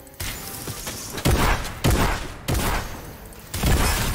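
Bursts of gunfire from a battle royale video game firefight, several loud sharp volleys in quick succession with short gaps between them, close and dominant with no talk over them.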